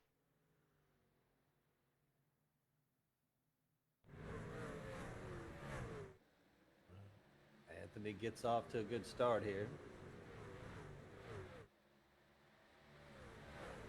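Sim race cars circling Phoenix Raceway, engines roaring loud and steady in two bursts with a quieter stretch between, while a commentator talks over them.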